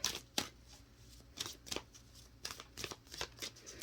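Tarot cards shuffled by hand in a quiet room, a series of brisk riffling bursts and soft flutters of card stock coming in irregular bunches, close and moderately quiet with no talking.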